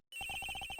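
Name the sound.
phone ringing in video game Ace Attorney Investigations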